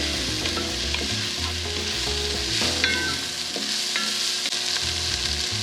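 Vegetables for red beans and rice sizzle in a pot, a loud steady frying hiss with occasional stirring scrapes and clinks throughout, no talk.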